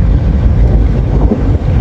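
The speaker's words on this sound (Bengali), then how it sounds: "দেখুন শুভরাজ নয় লঞ্চটি কিন্তু ব্যাপক গতিতে এগিয়ে আসছে।" Passenger launch M.V. Shuvoraj 9 races along a river, a loud low rumble mixed with heavy wind buffeting against the microphone, steady and continuous.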